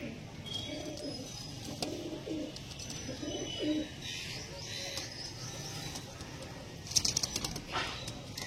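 Pigeons cooing in a loft, soft repeated low coos close by with light chirps and a brief burst of wing flapping near the end, faint voices in the background.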